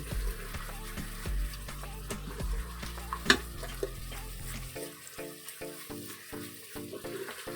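Herbs and spices stirred into beef juices in an Instant Pot, a steady soft sizzle and frying crackle with scraping stir strokes and one sharp clink of a spoon against the pot, fairly quiet and close.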